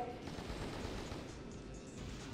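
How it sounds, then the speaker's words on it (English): A short burst of rapid gunfire from the video game Shadow the Hedgehog, quiet and somewhat muffled, with several shots packed closely together over steady game noise. "Trying to get a couple bullets off."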